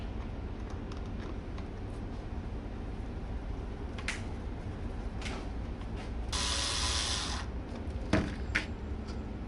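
A hand screwdriver ratchets screws into the backing of an ADR Eaglet FPV fixed-wing foam airframe, giving close, repeated mechanical clicks in short bursts with a few louder rattling scrapes, and no voices.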